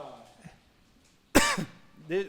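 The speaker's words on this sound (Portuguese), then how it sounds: "Eu tossi." A single sharp cough from a man on a podcast, loud and close, between quiet talk.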